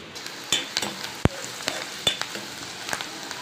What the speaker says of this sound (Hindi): ये डाल दिए इसमें टमाटर और हरी मिर्च ताकि अच्छे से फ्राई हो जाए